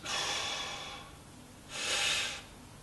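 Two deep abdominal breaths, a long airy exhale followed by a shorter inhale, close and clear with no talking, taken while bracing for strength lifts.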